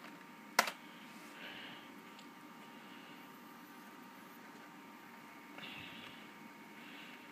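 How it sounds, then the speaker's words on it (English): A single sharp key press on a computer keyboard, the F12 key struck once near the start, followed by quiet room hum and a faint shuffle later. "Hit F12 on that keyboard there."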